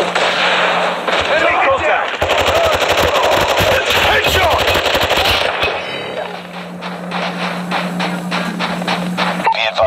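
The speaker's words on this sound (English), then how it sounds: "Be advised, hostile sentry gun spotted." A hostile sentry gun in a multiplayer video game fires in loud, dense automatic bursts with game effects and radio chatter mixed in, continuous for about ten seconds.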